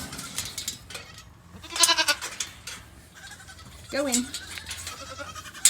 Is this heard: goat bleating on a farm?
yes